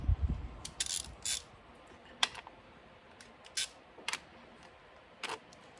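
Standard ratchet working on bolts of a Mazdaspeed 3 (Axela MPS) during a serpentine belt replacement, a few short sharp clicking bursts scattered irregularly and close by, with quiet gaps between them and no talking.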